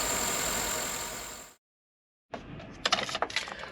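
A truck engine running steadily after a spark plug swap, a smooth, even hum that cuts out abruptly, followed after a short silence by nearby clinks and rattling handling noises.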